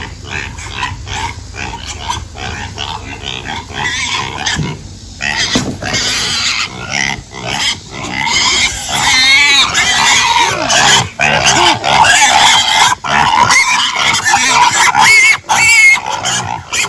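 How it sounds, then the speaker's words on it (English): A loud, dense chorus of pigs grunting, oinking and squealing continuously, close by, with no talking. "Do you hear these pigs?"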